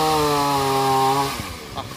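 A chainsaw cutting through a small tree outdoors, its engine holding a loud, steady whine before the pitch drops and sputters as the cut finishes.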